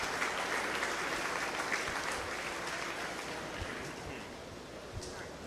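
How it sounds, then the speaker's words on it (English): A crowd in an arena at a beef cattle showmanship show gives a soft, steady round of applause as young showmen leave the ring, a broad, distant wash of clapping that slowly fades. "Let's give everybody a round of applause as they exit the ring."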